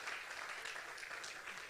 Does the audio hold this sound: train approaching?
no